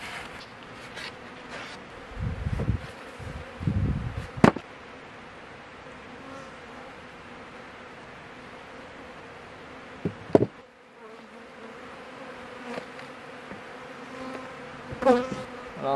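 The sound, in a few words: honey bees buzzing around hives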